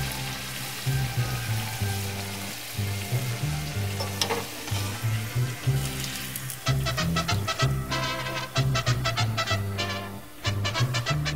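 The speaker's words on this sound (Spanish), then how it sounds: "Ponga la empanada extraordinaria en la olla y cocinala hasta que es café." An empanada fries in vegetable oil in a pot, a steady loud sizzle that grows denser and crackles more sharply midway, with occasional stirring scrapes.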